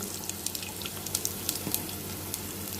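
Garlic frying in oil for a Konkan-style tempering, a steady close sizzle and crackle with small sharp pops scattered throughout.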